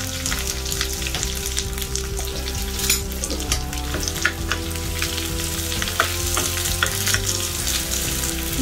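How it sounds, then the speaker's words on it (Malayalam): Small onions sizzle and crackle steadily in hot oil with mustard seeds in a pan, a loud continuous frying hiss with scattered pops and the occasional stir, heard alone without voices. "ഇനി നമുക്ക് ഇതിനകത്തേക്ക് ചെറിയ ഉള്ളി ഇട്ട് കൊടുക്കാം"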